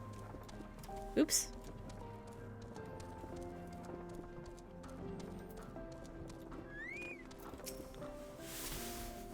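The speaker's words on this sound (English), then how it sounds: "Don't mind me, just riding a chocobo carriage." Rhythmic clip-clop of hooves from a chocobo-drawn carriage in Final Fantasy XIV, steady and moderate beneath game music, with a short bird-like cry early and a brief spoken word.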